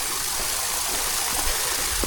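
Stream water rushing and splashing on a mountain trail-run route, a steady broadband wash that stays loud and close throughout, with no voices.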